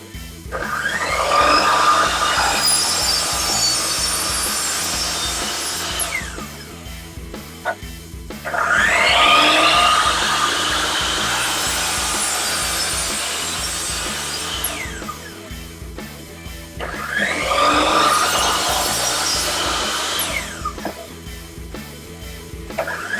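A power saw rips through pieces of wood for a pen blank squaring jig in three long passes, each a loud, close whine with a rising tone at the start, separated by brief lulls where the motor hum continues.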